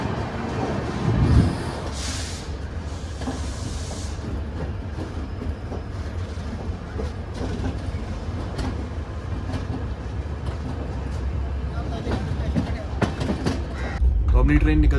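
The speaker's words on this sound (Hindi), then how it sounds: "तो अपनी ट्रेन निकल चुकी है सोलापुर रेलवे स्टेशन से।" The Shirdi Mysuru Express rolls out of Solapur railway station, a loud, continuous low rumble of wheels and carriage noise with steady rattling throughout and a brief heavier clatter near the end, heard from on board.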